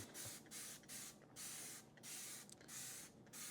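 Repeated hissing sprays from a Dawn Platinum Powerwash dish soap spray bottle, about seven quick bursts in an uneven rhythm, close and fairly quiet.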